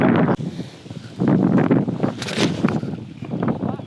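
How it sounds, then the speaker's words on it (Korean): Strong gusty wind at a seaside golf course in Phuket, buffeting the microphone in loud, uneven rushes and swells with no voices. "아, 진짜 바람 세게 불더만."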